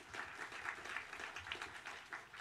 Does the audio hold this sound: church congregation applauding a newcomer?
yes